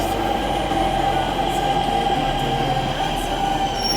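A departing metro train in New Delhi rumbles steadily nearby with a constant mechanical drone and faint rail whine, no voices heard.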